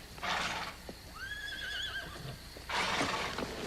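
A horse whinnies with a wavering, high call, framed by louder rustling bursts and a few soft hoof-like thuds nearby.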